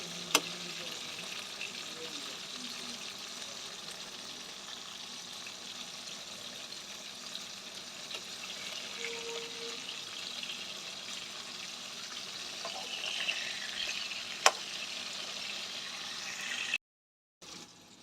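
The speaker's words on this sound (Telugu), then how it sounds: "ఇలాగ అన్నిటినీ ఫ్రై చేసేసుకోవాలి" Stuffed bitter gourds frying in a pan, a faint, steady low sizzle running throughout with an occasional sharp tap, cutting out briefly near the end.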